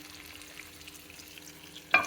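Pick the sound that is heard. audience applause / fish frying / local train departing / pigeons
fish frying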